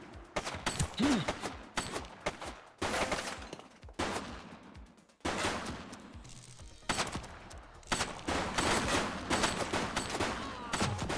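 Repeated bursts of gunfire in the police game The Precinct, loud cracks and rapid volleys broken by short pauses.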